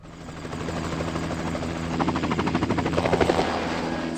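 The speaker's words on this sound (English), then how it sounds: "The helicopter will be there in minutes." Helicopter rotor in the Carmen Sandiego video game, a steady whirring drone that swells into louder rhythmic blade chops near the end, with no talking.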